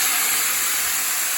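Seasoned chicken hitting a hot pan of nearly cooked onions: a loud, steady broadband sizzle, close and constant throughout with no breaks, no voices.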